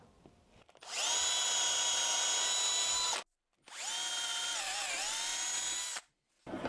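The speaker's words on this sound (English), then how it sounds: "These blocks of wood are going to need three holes drilled in." A power drill bores holes into wooden blocks in a workshop, running in two long, steady, high whining bursts separated by a short pause, loud and close.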